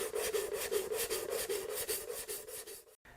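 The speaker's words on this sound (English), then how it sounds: "Now we'll use a sanding block with 120 grit to flatten this out completely." A 120-grit sanding block rubbed by hand across a shaped wooden piece, making steady rhythmic rasping strokes roughly four per second, close and fairly loud, ending abruptly near the close.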